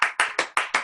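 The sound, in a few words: hands clapping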